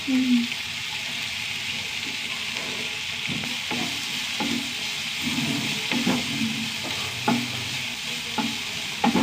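Onion with a teaspoon of ginger and garlic sautéing in a pan, a steady sizzle with repeated spoon scrapes and stirring knocks, close and continuous, with no voice over it.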